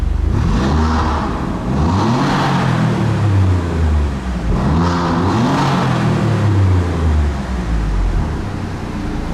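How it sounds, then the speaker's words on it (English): A car engine in race mode with its exhaust valve open revs hard and repeatedly, loud throaty surges rising and falling in two or three waves, close and continuous with no talk. "put it into race mode, because the valve opens up and it sounds extra good"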